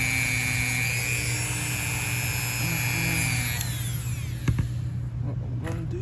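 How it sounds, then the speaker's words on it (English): A Dremel rotary tool runs with a steady, piercing high-pitched whine whose pitch glides and shifts midway, then the motor winds down toward the end amid a few sharp clicks and taps. "As soon as I turned on the Dremel"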